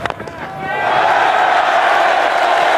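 Crowd at a one-day international cricket match between Ireland and Australia roars after a great shot, swelling quickly from a commentator's voice into a loud, sustained cheer.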